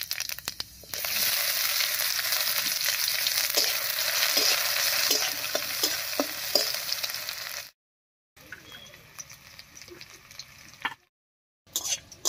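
Cumin seeds and chopped onion crackle and fry in hot mustard oil in a kadai, a loud dense sizzle with stirring taps, then quieter sputtering after a brief silence, near and without voices.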